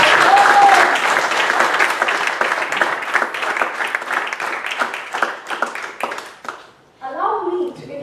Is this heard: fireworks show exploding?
no